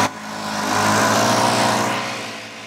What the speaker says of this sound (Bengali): দেখতে পাচ্ছেন জাস্ট একটা টেনেই স্টার্ট দিয়ে দিচ্ছে ছোট্ট এই মেশিন